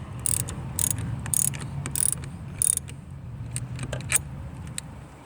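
A ratchet wrench with a 10 mm socket tightens a car battery terminal, giving several bursts of quick, close metallic clicking in short irregular runs over a low steady background hum.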